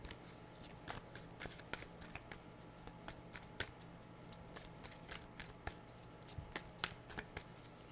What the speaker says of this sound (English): Still shuffling, sorry.